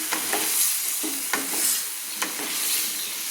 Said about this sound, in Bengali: কাবলি চানাগুলো দিয়ে আমি ভালো করে কষিয়ে নিচ্ছি